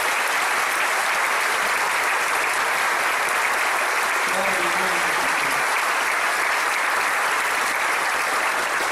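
A church congregation at a communion service applauds for birthday celebrants, a long, loud and sustained wash of clapping with a faint voice briefly audible in the middle.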